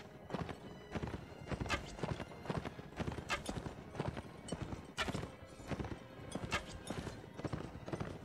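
Horse hooves clip-clop steadily as a rider gallops through a Mount & Blade: Warband battle, with occasional whinnies over the rhythmic hoofbeats and no talk.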